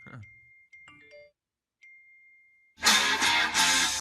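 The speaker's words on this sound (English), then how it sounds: "I'm getting so many text messages." A phone sounds short text-message notification dings, several brief tonal chimes spread across a quiet stretch, followed by a sudden loud burst of unrelated noise at the end.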